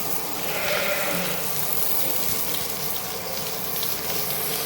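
Water runs and splashes steadily as a hose rinses a sheep's wool, with a faint sheep bleat partway through.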